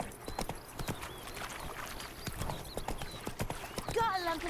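Hooves of Roach, a horse in The Witcher 3 video game, clip-clop in a quick, steady rhythm under someone talking, ending with a short neigh.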